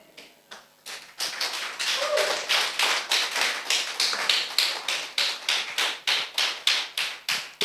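A church congregation claps in rhythm, a steady run of sharp, evenly spaced claps that builds quickly and then keeps a regular beat throughout.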